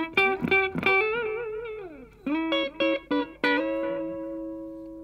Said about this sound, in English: We could add a little bit of delay to that.